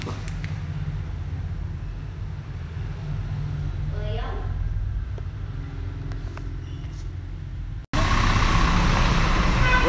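Bus engine heard from inside a moving bus in Vietnam, a steady low droning rumble with cabin noise and passengers talking, growing suddenly louder and rougher near the end.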